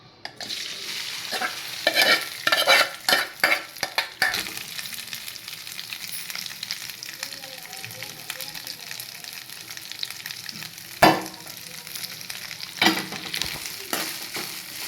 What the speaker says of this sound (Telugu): చికెన్ అనేది మనం ఇలా వేయించుకోవాలండి. కొంచెం బ్రౌన్ కలర్ వచ్చేంత వరకు వేయించుకోవాలి.